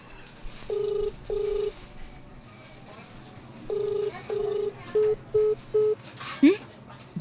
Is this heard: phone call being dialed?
yes